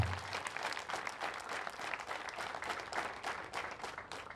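Audience applauding at a community celebration in Bumbogo sector, Rwanda; dense steady clapping from a crowd, somewhat distant and fairly soft throughout.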